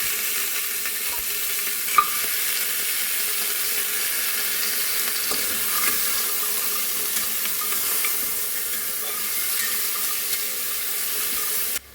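Mutton rib bones frying in oil with cinnamon and cloves make a soft, even sizzle throughout, broken by a single sharp clink of stirring near the start and another at the end, with nobody talking.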